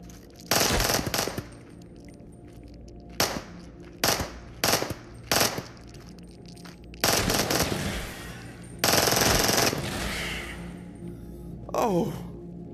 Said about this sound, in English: that was some panic shooting there